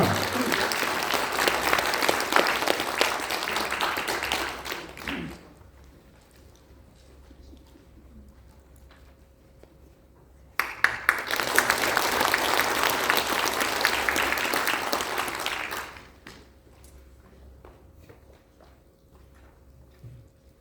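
Audience applause welcoming a poet at the launch ceremony of a Korean platform political party, two loud bursts of crowd clapping about five seconds each, separated by a quieter stretch with faint background sounds.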